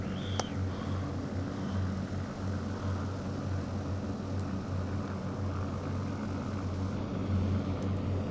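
Hellcat fighter's piston engine droning steadily in a flight simulator game, a continuous loud propeller hum with a low rumbling tone held throughout, no voices.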